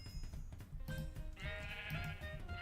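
Sheep bleating in a modded Minecraft (Feed The Beast) game, a couple of drawn-out wavering bleats close by over a busy background of game sounds.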